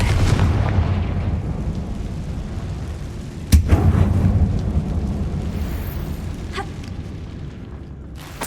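Blasting-spell explosion in Hogwarts Legacy, cast inside a closed, tomb-like mine: one sharp loud burst stands out over a constant deep rumbling game ambience, which rolls on steadily afterward.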